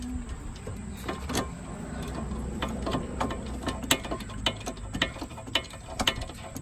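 A ratchet tightens the front wheel bearing bolt on a 2008 Pontiac G6 2.4 L4, sharp close clicks in uneven bursts of rapid strokes over a quiet garage background.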